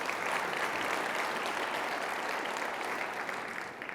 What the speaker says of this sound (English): So huge round of applause for all of you for that.